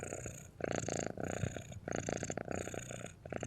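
A cat purring right against the ear, a loud, continuous rumbling that pulses in steady breathing cycles of roughly one second each, with no voices over it.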